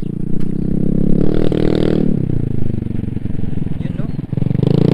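A Yamaha XMAX 300 scooter fitted with an open Akrapovic exhaust pipe revs loudly and close by, its engine note climbing and falling in throaty bursts, with a voice talking over it.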